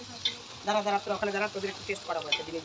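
Food sizzles steadily in a pan while a father cooks at home, with luchi and aloo dum on the menu. Utensils stir and clink now and then, and faint voice-like tones sit under the frying.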